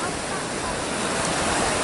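Steady wind roars together with crashing surf on a beach near Albufeira, Portugal, a continuous broad rush of noise with no pauses.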